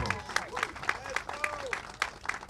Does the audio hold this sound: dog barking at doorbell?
no